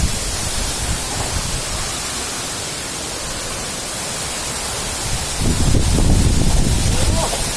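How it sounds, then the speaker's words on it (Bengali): Shaingpra waterfall roars as a steady, broadband rush of water that swells noticeably louder toward the end. No one speaks over it. "ভয়ঙ্কর সেই শাইংপ্রা ঝর্ণা"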